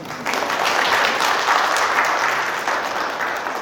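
An audience at a startup founder's talk in Daejeon applauds, with steady, fairly close clapping from many hands for about three seconds. No one speaks over it.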